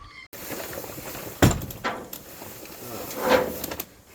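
A rooftop tent on the back of a 6-wheel drive is folded out, with a few hollow thunks and scraping slides of the panels and frame, close by and moderately loud.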